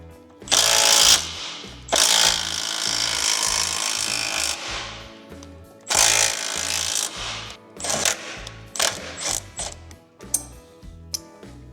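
A small 3/8-inch impact gun hammers at a tight, crusty bolt in loud bursts of rattling blows, several separate runs with short pauses between them, no voices.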